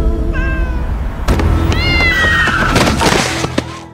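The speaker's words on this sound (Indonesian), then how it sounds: "Dan dia pun diam-diam ikut serta merawat kucing kecil itu" A small kitten in a Korean drama scene meows repeatedly, with several clear, loud, rising and falling cries heard close and alone.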